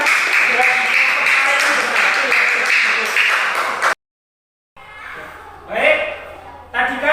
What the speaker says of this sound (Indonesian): Tepuk tangan untuk kelompok C yang sudah maju ke depan.